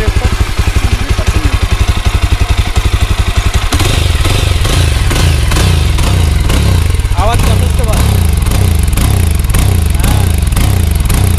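A 2023 Yezdi Adventure motorcycle engine runs steadily close by, with a rhythmic thumping beat that shifts slightly partway through, loud and continuous throughout.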